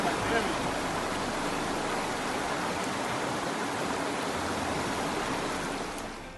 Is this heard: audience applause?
no